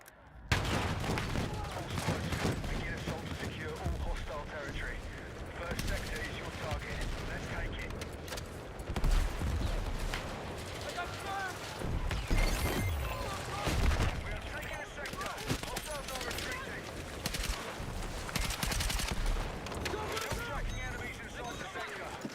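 Bursts of KV-9 submachine gun fire with subsonic rounds in the video game Battlefield 6, repeated rapid volleys mixed with other battlefield gunfire and explosions, with someone talking over much of the action.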